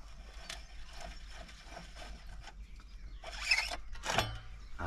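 An Allen key loosens the through axle on a Canyon Aeroad CFR road bike, giving faint, close mechanical clicks and a brief ratcheting rattle near the end.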